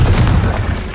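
A short, heavy booming blast from the Confringo spell in the Hogwarts Legacy video game, one loud deep burst that rumbles and fades within a second.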